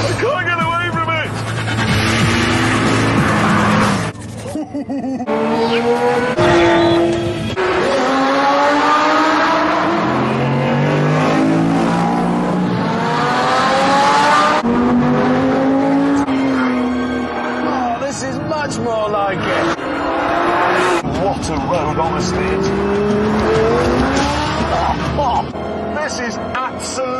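A fast car that reaches 60 mph in 3.5 seconds accelerates hard through repeated gear changes, its loud engine note climbing again and again, with a voice talking over it.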